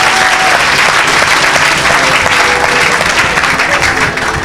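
A church congregation bursts into loud, sustained applause in acclaim during a French-language sermon, a dense wash of clapping from many hands that stays steady throughout, with a few voices faintly mixed in.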